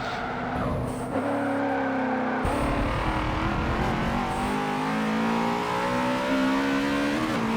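A NASCAR video game race car, the #42 Chevy on worn old tires, snarls at high revs with shifting engine pitch and tire squeal as it slides through turns, loud and continuous with no talk.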